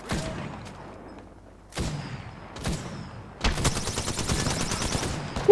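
Gunfire in a video game: separate shots around two and three seconds in, then a sustained, rattling burst of rapid automatic fire that carries on, loud and close, until the end, with no talking.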